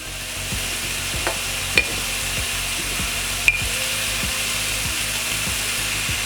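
Flour is stirred into sizzling Swedish meatball sauce in a hot pan, a loud steady frying hiss with a spoon scraping in a regular rhythm and a couple of sharper clicks.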